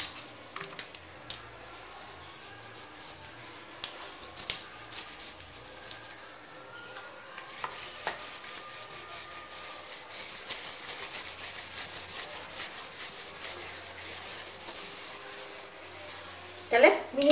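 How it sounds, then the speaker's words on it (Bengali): A sink basin scrubbed with Harpic cleaner: steady, close rubbing and brushing strokes with occasional light knocks and clicks, continuous through the clip, ending with a brief louder scrape. "হারপিক দিয়ে আমি মিনিট 10 মতন ঘষে রেখে দেবো"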